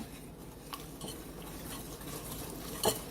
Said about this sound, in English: So beat it by hand until it's thickened.